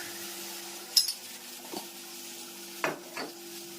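Spice tempering for sev tomato curry sizzles softly in a pan, with a few brief clinks and stirring scrapes rising over a steady, quiet fry.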